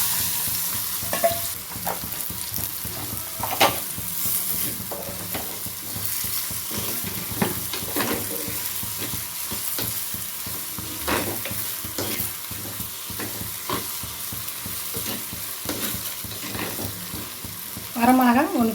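Small shallots frying and sizzling in a pan for a dried-fish fry, with a steady crackling sizzle punctuated by repeated scraping stirs of a spatula, close and continuous, with a brief voice at the very end.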